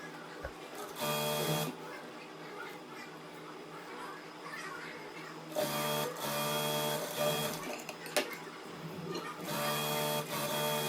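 Sewing machine stitching the round collar of a co-ord set, loud buzzing bursts of stitching separated by pauses, with faint background voices between runs.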